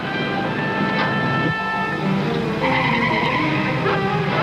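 Tires squeal and skid loudly as a car slides out of control just before a crash, with a shrill sustained screech that shifts in pitch over a rumbling engine.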